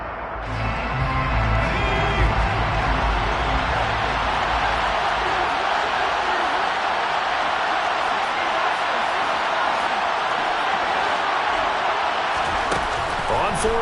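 A video game crowd roars inside a domed stadium during an EA Sports football game, a dense, loud, sustained wash of cheering that holds evenly throughout, with commentary voices speaking over it.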